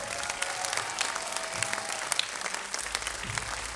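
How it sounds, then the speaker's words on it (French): Crowd at a live release party concert applauding for the sound engineer, sustained dense clapping with scattered louder claps and faint background murmur. "Au son, on applaudit Alex Israël s'il vous plaît"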